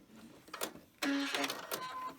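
A sewing machine making small stitches on an Easter tree decoration, a brief close whirring run with a fast mechanical rattle, starting and stopping within about two seconds.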